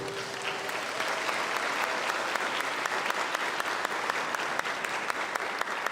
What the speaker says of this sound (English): Can you give yourself bigger applause?